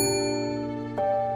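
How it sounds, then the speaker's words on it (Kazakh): A small handheld bell in a cartoon rings with a clear, sustained ding, then gets struck again about a second later, bright and ringing with nothing else over it. "қоңырауды басып шақыр"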